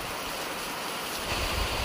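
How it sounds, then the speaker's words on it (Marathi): Continuous rain pours down everywhere outdoors during a downpour by a deep traditional fishing pool, a steady broadband hiss with a heavier low rumble of running water toward the end, with no talking. "सगळीकडे पाऊसच पाऊस आहे आणि सगळीकडे पडतोय"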